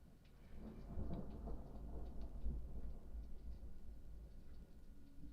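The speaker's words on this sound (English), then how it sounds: "Oh, we got a massive thunderstorm here, guys." Thunder rumbles low and continuous through a massive thunderstorm, with rain hissing steadily over it, fairly loud and sustained.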